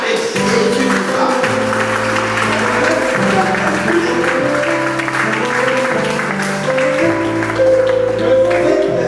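Church congregation claps and cheers for Jesus in a loud, sustained burst of applause, layered with steady music tones underneath throughout.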